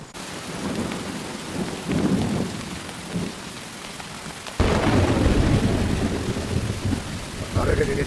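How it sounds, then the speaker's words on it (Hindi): Heavy rain falls with rumbling thunder, the downpour steady while deep rolls of thunder swell and a louder burst hits midway, with faint voices underneath. "बारिश बहुत तेज हो रही है ना"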